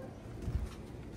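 Racing pigeons back at their home loft, with a soft low cooing and rustling near the middle of the brief stretch, close by and faint over steady background noise.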